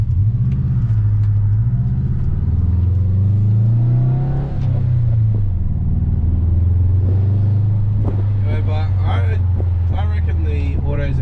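Subaru Forester SG fitted with a custom exhaust, its engine rumbling and revving loudly and continuously up close, pitch rising and falling through the revs, with a person talking over it.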